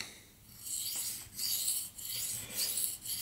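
Knife blade stroked back and forth on a sharpening stone, a quiet raspy scraping in steady repeated strokes, close and alone with no talk.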